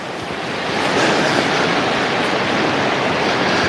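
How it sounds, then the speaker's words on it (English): Wind rushes steadily through old-growth forest on Vancouver Island during an atmospheric river, a broad, loud, continuous roar that swells slightly after the first second and holds without any talk. "Ooh, that wind is just whistling today."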